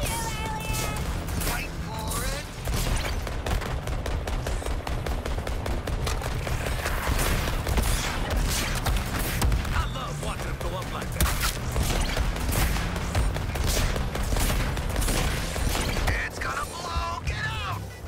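Gunfire rattles nonstop through a shooting battle in the Suicide Squad video game, dense rapid shots and impacts layered with loud game sound and voices throughout.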